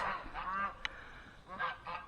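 Geese honk outdoors in a few nasal calls separated by short gaps, moderately close and fairly quiet.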